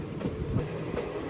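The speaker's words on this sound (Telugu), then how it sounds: "మల్కాజ్గిరి స్టేషన్ దాటుతుంటే సంబల్పూర్ నాందేడ్ ఎక్స్ప్రెస్ లోపలికి వస్తుంది అనమాట." Sambalpur–Nanded Express train at Malkajgiri station, a steady rumbling roll with faint rhythmic wheel clatter, heard continuously for a moment at moderate distance.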